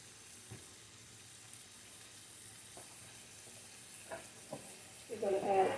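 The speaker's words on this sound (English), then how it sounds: "And I don't want these to brown, just a gentle saute" Vegetables gently sautéing in a pan before canned pink salmon goes in: a faint, steady low sizzle with occasional soft stirring taps, rising briefly at the end.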